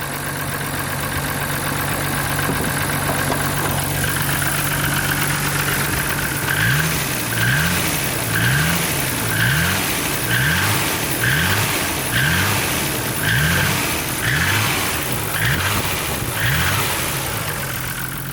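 Car engine running rough with a low, deep sound, a steady drone that turns into a rhythmic wobbling pulse partway through, close and continuous with no talk.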